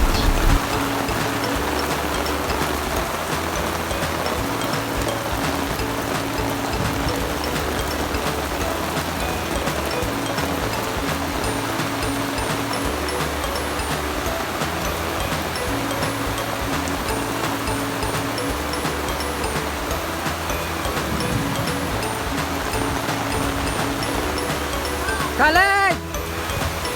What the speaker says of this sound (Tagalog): Unang ulan na malakas. Ayun, ulan na malakas.